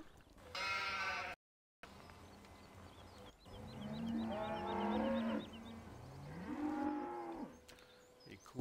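Cattle in a farming simulator game give several drawn-out, harmonic moos, the lowing calls rising and falling one after another with brief gaps between them and no talk over them.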